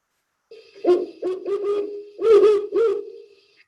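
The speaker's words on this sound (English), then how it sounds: "this is a great horned owl, just kind of their typical sound" A series of deep, resonant hoots from a great horned owl, several in a rhythmic run, clear and fairly close with no other sounds.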